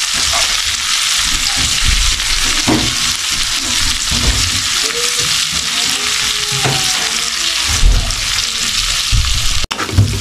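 Chopped garlic, onion, ginger and chili sauté in a hot pan with a loud, continuous sizzle and frying hiss, broken by scraping stir strokes and a few clinks, close and alone.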